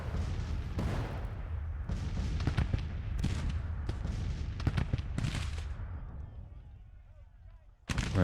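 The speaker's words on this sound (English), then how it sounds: "that's an artillery battery" Cannon fire from a Civil War artillery battery in the strategy game Grand Tactician: The Civil War, with repeated booming shots and crackling gunfire continuing for several seconds. The barrage fades toward the end, and one more loud blast comes right at the close.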